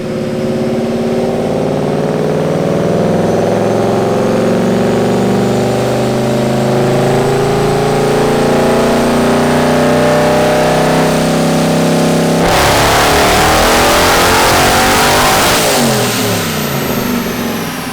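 A supercharged Mustang GT on a dyno revs at full throttle, a loud, sustained rising engine roar that climbs steadily, then shifts abruptly into a harsher, brighter high-rpm scream near the end, with no voices.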